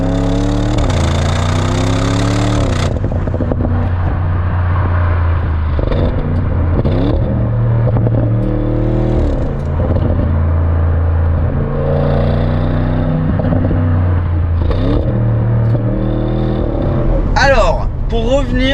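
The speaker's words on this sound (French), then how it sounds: "On va vous mettre un clip de l'échappement de celle-ci." Engine note of a 2023 Audi RS6 Performance, a steady loud drone with repeated rising revs and gear changes, plus a sharper burst of revving near the end.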